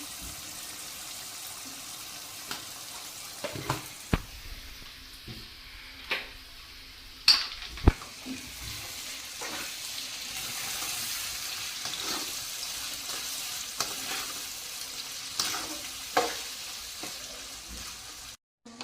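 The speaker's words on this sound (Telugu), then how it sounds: "టమాటాలు అయితే మగ్గుతున్నాయి" Tomatoes and salt cook in hot oil in a pan for egg pulusu, an egg curry, giving a steady close sizzle with scattered sharp pops and clicks throughout, and no talking.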